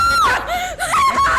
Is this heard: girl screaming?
yes